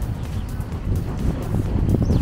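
Strong wind gusting by Dianchi Lake in Kunming, a windy spot on the lakeshore near the tour boats, a steady low rumble buffeting the microphone throughout with no pauses.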